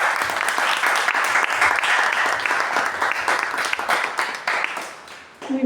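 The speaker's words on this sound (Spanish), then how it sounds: "Si le puede dar un fuerte aplauso a Daily Grace" Loud, steady applause from an audience at a Spanish-language book launch, dense clapping sustained for several seconds before tapering off at the end.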